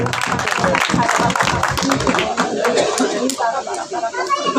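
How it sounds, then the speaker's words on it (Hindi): Loud clapping and cheering from a congregation at a Sunday church service, dense and continuous throughout, with voices mixed into the crowd noise. "जलाल के लिए जोरदार तालियां बजाइए।"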